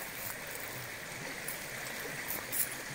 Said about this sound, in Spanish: Aquí vean la corriente del río, miren, la transparencia del agua